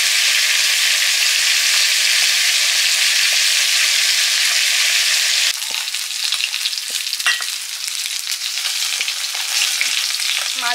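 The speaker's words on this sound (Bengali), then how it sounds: "মাছ ভাজা হয়ে গেছে" Fish frying in hot oil in a home kitchen gives a loud, steady sizzle that suddenly drops away halfway through, leaving quieter crackles and the scrape of stirring.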